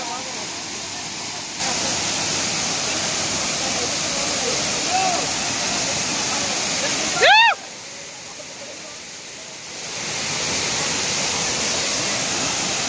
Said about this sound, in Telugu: గండహతి వాటర్ ఫాల్స్ దగ్గర కుర్రాళ్ళు ఎట్లా ఎంజాయ్ చేస్తున్నారో చూడండి